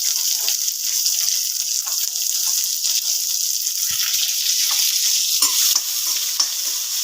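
Chopped onion hits hot oil with cumin, mustard seeds and curry leaves, giving a loud, steady close sizzle with bursts of crackling and occasional stirring scrapes throughout.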